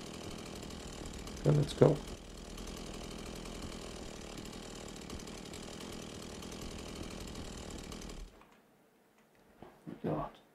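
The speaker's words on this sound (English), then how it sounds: "Chainsaw is probably gonna break any second now." Steady mechanical drone of a running chainsaw in the horror game Beyond Hanwell, holding level for about eight seconds before cutting out, with a voice speaking briefly over it.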